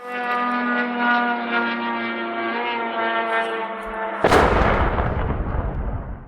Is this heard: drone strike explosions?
yes